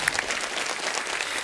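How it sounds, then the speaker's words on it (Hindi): A studio audience at a comedy talk show claps loudly and densely in a brief, sustained burst of applause with no talk over it. "तालियां जोरदार होनी चाहिए"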